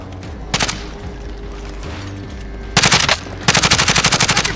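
Video game gunfire comes as a single sharp shot, then two loud bursts of rapid automatic fire, close and dominant over a low background hum.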